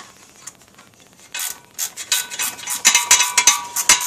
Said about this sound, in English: I like to use these little ratcheting wrenches